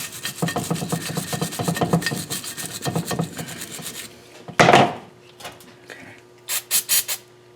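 A cast iron turbo manifold flange from a KA24DEAT engine is resurfaced by hand, with fast repeated rasping strokes for about four seconds, then a sharp scrape and a few short separate scuffs. The sound is close and loud.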